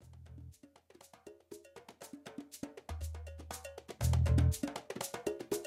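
GarageBand-made podcast intro music with low bass strikes and a loud organ swelling in, set against a bright percussive, cowbell-like pattern of plucked hits, played alone without voices.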